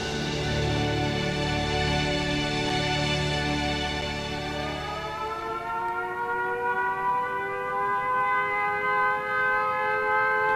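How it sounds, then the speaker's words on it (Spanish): Wartime air raid sirens wail as an alarm, a loud sustained drone whose pitch holds and then slowly glides downward over about ten seconds, with no voices. "Las sirenas dan la señal de alarma."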